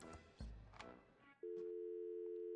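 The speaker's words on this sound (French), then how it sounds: "Alors, utilisez le téléphone." A steady electronic telephone tone, like a busy or dial signal, from the point-and-click adventure game Thimbleweed Park, starting after a burst of game noise and droning on unbroken to the end.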